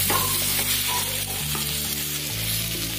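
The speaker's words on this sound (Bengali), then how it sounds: "দিয়ে দিলাম, সবটাকে একসঙ্গে নাড়াচাড়া করব।" Capsicum, carrot and cauliflower for a chicken sizzler sizzle steadily in a hot pan while being stirred, a continuous frying hiss broken by soft scraping, with no talking.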